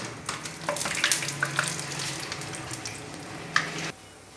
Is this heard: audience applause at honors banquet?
no